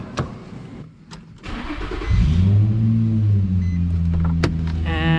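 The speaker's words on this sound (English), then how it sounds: "We're gonna start the car." An INFINITI FX35 engine cranks and catches, then settles into a steady idle hum after a few clicks and a brief whir.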